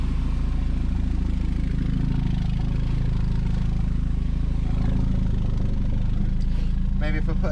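A Volvo fitted with a new turbo idles nearby with a steady, loud low rumble and an even mechanical throb, ending with a few light rattles.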